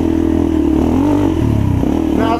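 A modded 2016 Yamaha TTR230 dirt bike with intake, exhaust and carburetor mods and regearing runs loud and close while being ridden, its engine note rising and shifting steadily through the whole stretch with no talk.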